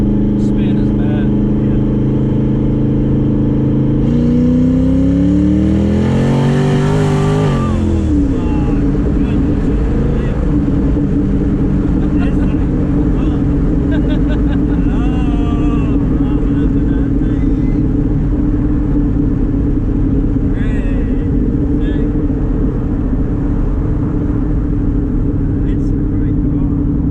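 Twin-turbo Mustang engine revving hard under acceleration, pitch sweeping up and then settling into a steady loud drone from inside the car, with voices talking throughout.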